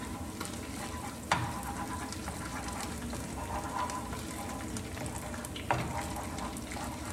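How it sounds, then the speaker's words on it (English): Tomato paste frying in a pan for spicy vodka pasta makes a constant close sizzle with soft stirring scrapes and two sharper knocks, and nobody speaks. "Once you add your tomato paste, you would just want to cook it until it's slightly darker in color"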